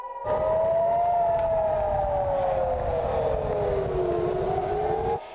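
A loud, sustained air raid siren wails steadily in Israel, its pitch slowly rising and falling in a long continuous tone, with no voices.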